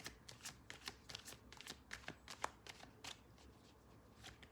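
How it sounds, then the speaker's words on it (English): A deck of tarot cards being shuffled, giving a steady run of crisp riffling flutters, close and fairly quiet, with no voice over it. "I'm struggling a bit with the cards tonight, like to shuffle them."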